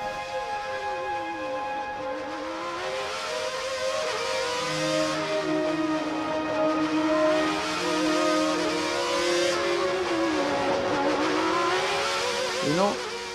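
Ayrton Senna's Formula 1 car lapping Monaco, its engine screaming loud and close with rising and falling pitch sweeps through gear changes and corners, continuous throughout with no talk.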